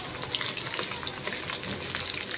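Potatoes fry in a pan with a constant close sizzle and fine crackle, even and unbroken throughout, with no talking over it.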